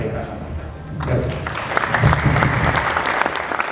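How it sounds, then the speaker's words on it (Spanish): An audience at a conference talk in Cajamarca breaks into sustained, loud applause right after the speaker finishes, with many hands clapping together and a voice speaking over it. "fuerte los aplausos"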